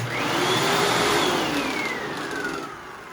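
A Hoover Anniversary vacuum cleaner with a new bag runs steadily nearby with a strong, even whine and airy roar, its pitch sliding slightly as the suction changes.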